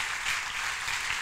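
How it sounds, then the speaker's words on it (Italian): Audience applause at an arts and music event in London, a dense, steady wash of many hands clapping that fills the short stretch evenly with no voices over it. "loro meritano un applauso diverso"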